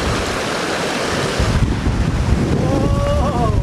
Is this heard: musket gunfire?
no